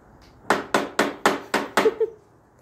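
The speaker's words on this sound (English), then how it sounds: "Here we are using a hammer to fix the car and a screwdriver." Seven quick taps of a small toy hammer on a toy car in an even rhythm, close and fairly sharp, with the last two coming closer together.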